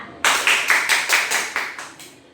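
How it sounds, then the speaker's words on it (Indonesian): Classroom applause for a student named Rita, a short burst of several close hand claps that gradually fades over about two seconds. "Beri aplaus untuk Rita."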